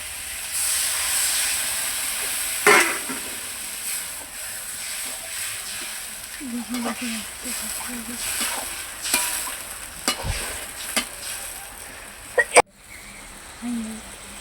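Water poured into a hot pan of hilsa fish curry set off a loud, steady hiss and sizzle, with stirring scrapes and clatters throughout and a voice speaking at times.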